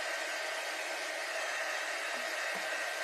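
Hair dryer blowing steadily and close for the whole stretch, drying paint on a patriotic red, white and blue craft butterfly, a constant broadband rush with no talk over it.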